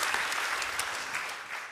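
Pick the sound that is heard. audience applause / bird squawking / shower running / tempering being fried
audience applause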